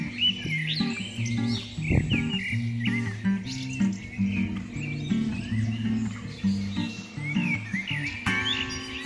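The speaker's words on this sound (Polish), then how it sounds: "Ciemno jest troszeczkę. Ale ptaki śpiewają. Ale się rozśpiewały." Wild birds sing at dusk in open countryside, chirping and trilling in a busy overlapping chorus of several songsters, fairly close, with no talking.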